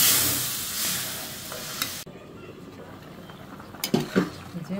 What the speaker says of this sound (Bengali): আমি আলুটা ভালো করে কষাই নিচ্ছি